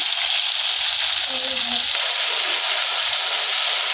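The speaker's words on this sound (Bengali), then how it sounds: "চিকেনগুলো লাল লাল করে ভেজে নিব" Chicken pieces frying in a pan until reddish-brown for a homemade chicken masala, with a steady close hiss throughout and brief voice-like tones in the middle.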